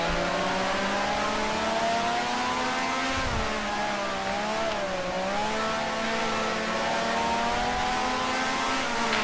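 A 1965-era Grand Prix race car engine in the racing video game Grand Prix Legends drones loud and steady, its pitch dipping and climbing as the driver shifts down to second gear for a corner.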